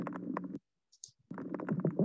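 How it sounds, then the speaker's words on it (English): Toadfish calling in an underwater recording from Sarasota waters: two low, dense grunting bursts separated by a brief quiet gap with faint clicks, loud and close. "This is what a yummy toadfish sounds like."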